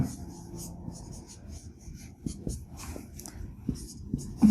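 A pen scratches across paper while working out a math problem, close soft strokes in short bursts, with a quiet voice speaking over it.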